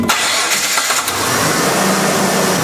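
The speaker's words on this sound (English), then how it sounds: "we're going to turn on the engine." A car engine cranks briefly and catches, then settles into a steady, close idle.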